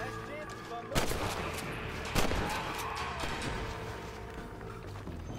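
Gunshots crack out in the video game Red Dead Redemption, two sharp loud reports about a second apart over a steady rumbling game soundscape, then continuing background noise.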